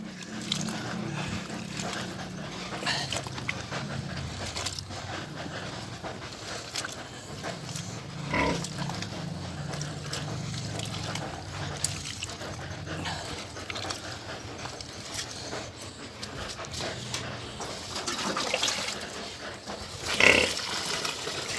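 Young piglets at their first feeding on a farm, with a steady, noisy mix of grunts, squeals and wet slurping at the trough, fairly close and continuous, with a brief louder burst near the end.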